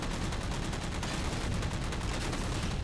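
Gunfire in the Halo 4 multiplayer video game, aimed at a Mantis, sounds as a dense, continuous rattle of rapid shots, loud and unbroken, with no talking.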